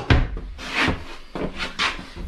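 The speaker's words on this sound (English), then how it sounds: "you've got your full extension ball bearing drawer guides in the" Ball bearing full-extension drawer in a tiny house on wheels bathroom sliding open and shut, several short close wooden knocks and rolling slides in quick succession.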